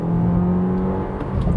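Jeep Compass Limited T270 with a 1.3 turbo engine accelerating: a loud, steady engine drone with sustained low tones that hold throughout, with no talking.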